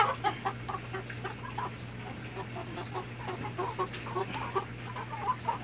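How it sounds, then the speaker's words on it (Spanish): Chickens, a hen among them, cluck repeatedly in short, choppy bursts, fairly close, with a steady low hum running underneath. "mira mi gallina"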